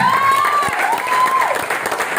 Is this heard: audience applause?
yes